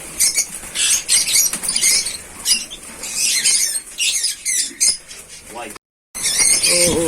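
Birds in a farm aviary flutter and flap in quick bursts with sharp squeaky chirps, close by, and a voice speaks briefly among them.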